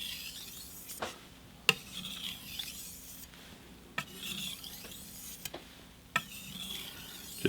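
Knife blade drawn across a King whetstone in repeated rasping strokes, quiet and close, each pass a soft scrape ending in a sharper tick, with brief pauses between strokes.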